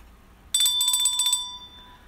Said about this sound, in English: Ring the bell for that one.